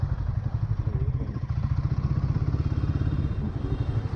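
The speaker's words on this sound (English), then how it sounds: "The bike actually sounds pretty good. It makes all these howling sounds, the intake sounds" A Royal Enfield Guerrilla 450 motorcycle runs on the road, its single-cylinder engine giving a close, steady, pulsing thump with an intake growl underneath.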